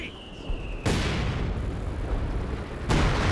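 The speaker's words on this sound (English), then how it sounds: "Is that a major artillery?" Artillery fire in Company of Heroes 2, a multiplayer 2v2 match: two sudden heavy blasts, the first near one second and another near three seconds, each followed by a sustained broadband rumble, with a faint tone fading beforehand.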